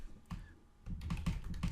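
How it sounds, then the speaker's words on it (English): Quick keystrokes clatter on a computer keyboard during coding, with a few scattered taps first and then a denser run of close, crisp clicks. "Let's do some typing."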